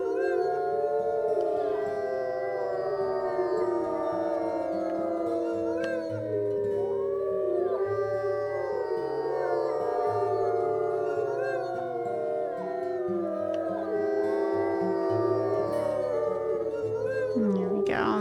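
Wolves in the WolfQuest video game give long, wavering howls and growls, the calls layered over one another and held steadily loud for the whole stretch over a game soundtrack.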